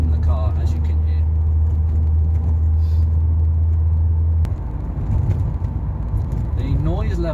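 Loose items rattle and clatter inside a moving Ford Focus MK1, scattered knocks over a steady low road rumble while someone talks.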